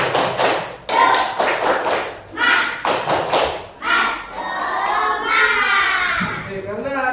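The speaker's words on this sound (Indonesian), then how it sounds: "kita tepuk semangat dulu" A classroom of students performs the tepuk semangat spirit clap, a series of sharp rhythmic clap bursts in a patterned beat, followed by children chanting together and a voice briefly joining.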